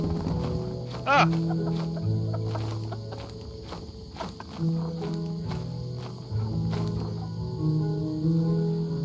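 Clucking birds in the video game Lethal Company, scattered clucks and squawks over a busy bed of game noise, footsteps and rumbling, with a brief rising squawk near the start and voices talking in between.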